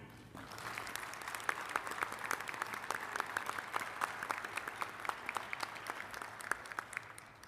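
Audience applauding a graduate at a college convocation ceremony, sustained even clapping from many hands, fairly distant and soft, lasting the whole stretch.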